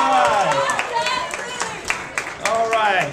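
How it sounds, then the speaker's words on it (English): Scattered claps from a live audience cheering a contestant, mixed with crowd noise under a loud announcer voice speaking over the whole stretch. "have about a big round of applause for Cassie!"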